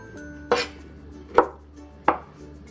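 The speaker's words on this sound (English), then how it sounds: "Next, let's cut the oyster mushrooms." A knife cuts through oyster mushrooms on a board in three distinct, evenly spaced chops, crisp and close, with a quiet background between strokes and no voices.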